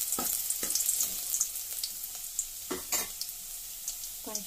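Chopped ginger, garlic and green chili fry for mushroom Manchurian with a continuous sizzle, broken by sharp stirring scrapes and clinks of a spatula against the pan, and no voices.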